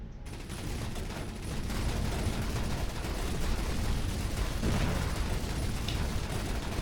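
Spaceship guns in the space game Avorion fire in a dense, continuous roaring barrage, loud and unbroken for several seconds with no voices.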